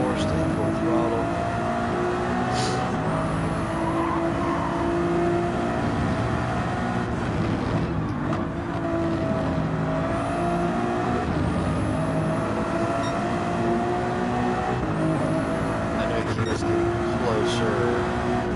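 A race car engine held at full throttle in a racing video game, a steady loud drone that runs through the whole stretch, with a voice talking over it.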